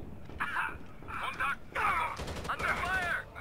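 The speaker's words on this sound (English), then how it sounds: "Who's shooting at us?" Bursts of gunfire in a tactical squad shooter video game, several short volleys spread across the clip at moderate loudness, mixed with game sounds.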